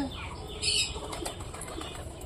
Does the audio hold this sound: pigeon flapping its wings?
yes